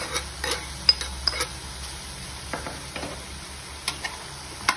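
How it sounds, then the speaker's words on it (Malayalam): A mustard seed, curry leaf and onion tempering is stirred into koorka thoran in a pan, with soft scraping strokes and light clinks of a spoon over a faint sizzle, all fairly quiet and without talk. "ഇനി നമുക്ക് കടുക്, കറിവേപ്പില, ഉള്ളി ഇവയെല്ലാം കൂടെ താളിച്ചത് ഇതിലേക്ക് ചേർത്ത് ഇളക്കിയെടുക്കാം."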